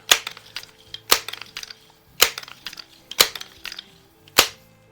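An antique Crosman air rifle is fired at a can, and each of five evenly spaced sharp cracks comes with a metallic tinny rattle of the hit. The shots are near and loud, with brief ringing between them.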